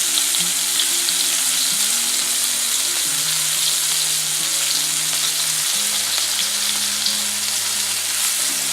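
Mushroom steak browns in a frying pan with a loud, steady sizzle that runs unbroken from start to finish, close up, with faint tonal sounds underneath.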